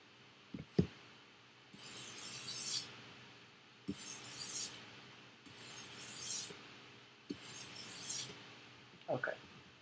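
A knife blade is drawn very lightly across a sharpening stone to take off the burr. Four soft, evenly spaced scraping strokes sound close and quiet, with small taps and clinks between them.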